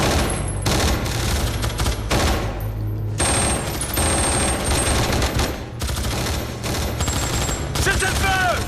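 Dense, loud bursts of machine-gun fire and gunshots from an action film scene, sustained volleys nearly filling the stretch with brief gaps, shouting voices mixed in.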